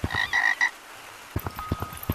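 A frog croaks inside the Gorilla Tag VR game, with several quick close croaks in a burst, then after a pause a series of rhythmic low pulses with a thin sustained tone.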